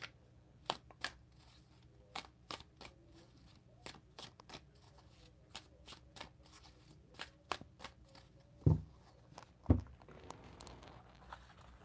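A deck of cards, likely tarot or oracle cards before a prayer, is shuffled in a series of sharp, close riffling snaps at irregular intervals, with two heavier thumps near the end over a quiet background.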